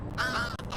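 A crow caws in the video game Little Kitty Big City, a single harsh call lasting under a second, clear and fairly close against soft game ambience.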